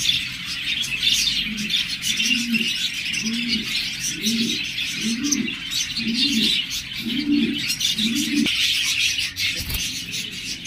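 A pair of budgerigars chirp steadily in a dense high twitter, with a soft repeated cooing call pulsing underneath at a regular rhythm, close and fairly loud.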